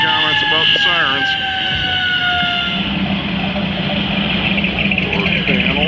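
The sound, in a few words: sirens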